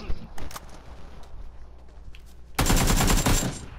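Gunfire in the video game PUBG: Battlegrounds, with scattered isolated shots early, then a dense loud burst of automatic fire during the final second.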